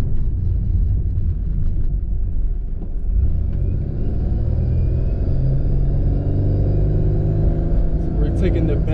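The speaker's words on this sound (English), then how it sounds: "we'll go through all four gears to see what we get" A 1997 Firebird engine rumbles loudly and steadily up close, revving and pulling through all four gears with a deep, continuous drone.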